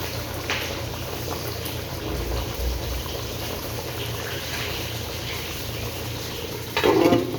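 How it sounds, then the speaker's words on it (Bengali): Potatoes simmering in a pot for a boal fish curry, a steady low bubbling and faint sizzle running throughout, with a louder burst of stirring or sputtering near the end. "আর আমি এখানে আপনার কফি আলু দিয়ে পাকাইতেছি।"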